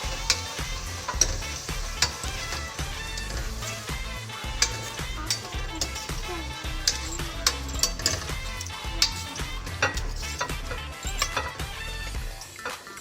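Busy, steady scraping and stirring of garlic-ginger paste in a hot pan with a continuous sizzle, dense clicks and clatters throughout, close up and fairly loud, no voices.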